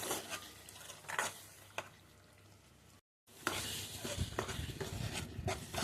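Small fish curry with raw mango pieces being stirred in a pan, a spoon scraping and clinking against the metal in irregular strokes over a steady close sizzle, with a short break midway.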